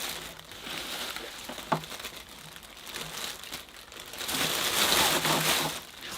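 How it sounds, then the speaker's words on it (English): Whitefly-infested hibiscus leaves crinkle and rustle as they are gathered into a plastic bag, a quiet, continuous crumpling close by. "I'm going to collect up all the leaves, put them in a plastic bag"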